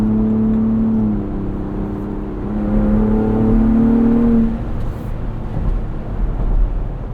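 Steady, fairly loud engine drone of a 2022 Ford Bronco Raptor with a low exhaust tone rising and falling slightly, as heard from inside while driving.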